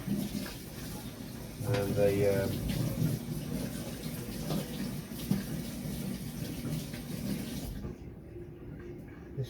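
Water runs and splashes at moderate volume while the filter from a 370-litre Tanganyikan fish tank is rinsed, then stops abruptly near the end, with a voice talking over it.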